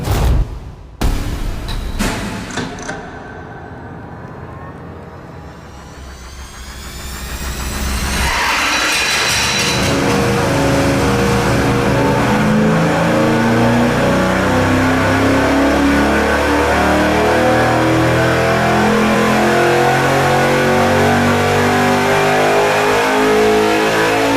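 A supercharged engine on a dyno with a small blower pulley and big boost: after a few sharp cracks and a lull, it climbs into a loud, sustained high-rpm roar that holds to the end, with no talking.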